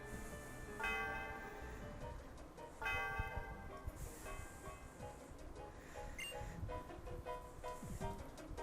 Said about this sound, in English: Snek rang the bell.